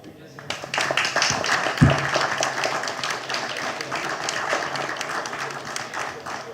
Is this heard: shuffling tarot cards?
no